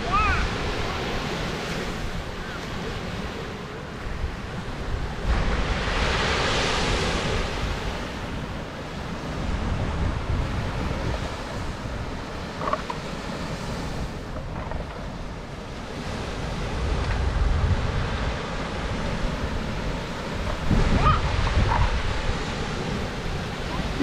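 Ocean surf at a beach in Panama City Beach, Florida, a steady roar of breaking waves rising and falling in broad swells, with faint wind across the microphone and brief distant voices.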